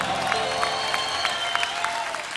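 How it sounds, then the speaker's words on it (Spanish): A live salsa concert audience in Medellín, Colombia applauds the musicians, a continuous wash of clapping with a few light cheers, steady and fairly close over a faint sustained tone. "yo quiero pedir un fuerte aplauso para estos grandes músicos de acá de Colombia"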